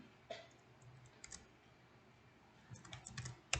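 Someone types code on a computer keyboard in sparse, soft key clicks with gaps between them, close and quiet in a still room.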